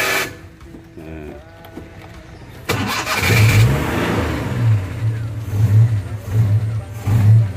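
A Daihatsu Hijet 1000 engine cranks and catches, then idles and revs in several loud, close bursts; faint noises come first, with no talk over the engine.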